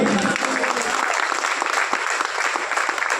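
Dense, steady applause from an audience at a Hindi poetry recital about the Ram temple movement, loud and continuous for a few seconds with no voices rising above it.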